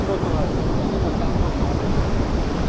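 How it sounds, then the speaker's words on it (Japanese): Continuous roar of ocean surf mixed with gusting wind buffeting the microphone, steady and fairly loud throughout with no distinct breaks. "波の音、風の音"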